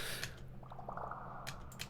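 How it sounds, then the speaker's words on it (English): Synthesized bubble sound effect from a music track: a short run of soft, watery bubbling pops over a low steady hum, ending with a couple of brief bright bursts, no voices. "Some bubbles. The first of the many bubbles."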